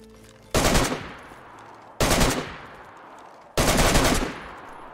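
Three short, loud bursts of automatic gunfire in the video game DayZ, evenly spaced about a second and a half apart, each a rapid crackling volley with a brief tail.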